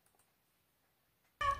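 After a stretch of near silence, a single loud, close cat meow suddenly bursts out at the end.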